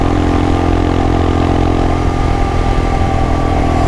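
A Royal Enfield Himalayan motorcycle's single-cylinder engine runs loud and close, a dense, throaty rumble held steady at high revs with no talking over it.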